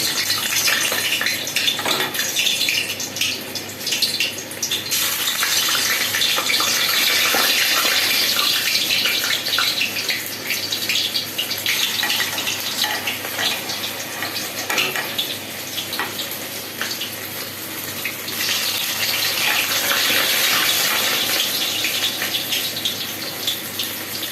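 Small pieces of flour dough frying in hot oil: a loud, continuous bubbling sizzle close by that swells and eases over time, with occasional utensil clinks and no speech.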